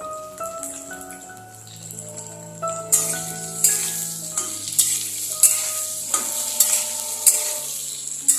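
Onion and capsicum fry on a high flame, a crackling sizzle with rhythmic stirring scrapes and clanks that grows louder midway, while sustained musical tones play underneath.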